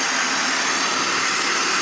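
A 2003 BMW 530i inline six-cylinder engine idles steadily with the hood open, giving a dense, even mechanical hum and rush that holds unbroken at a close, fairly loud level.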